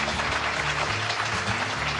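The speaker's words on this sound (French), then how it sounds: "Et on les applaudit" Applause for a newly married couple at a wedding ceremony, dense steady clapping from a gathered crowd, fairly close and continuous, with no talk over it.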